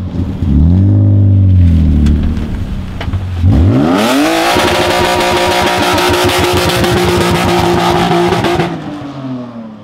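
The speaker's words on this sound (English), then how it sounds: "It likes that rev limiter, dude." A BMW E30 with a swapped S52 engine climbs in revs and then bangs against the rev limiter in a rapid stuttering chatter lasting several seconds, very loud and close before cutting off.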